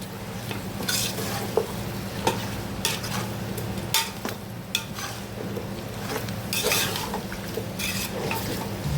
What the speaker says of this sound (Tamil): கறி வந்து இந்த மசாலாவோடு சேர்த்து நல்லா வறுத்துக்கணும் ஒரு 2 நிமிஷம் நல்லா வறுக்கணும்